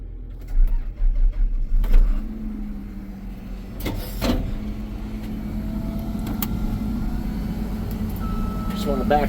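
A car backing up slowly: a steady low engine hum runs throughout, with a few brief clunks early on and some speech-like bursts at the start.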